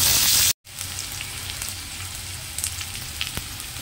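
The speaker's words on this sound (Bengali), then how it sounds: "অল্প একটু লবণ দিয়ে এবার আলুগুলোকে ভেজে নেব" Potatoes fry in a pan with a little salt, giving a dense, steady crackling sizzle close by after a brief silent gap at the start, with faint scattered pops.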